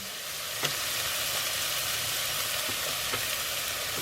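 Oil hisses and sizzles steadily in a frying pan on minimum heat, a constant close crackle with a few faint clicks and no voices.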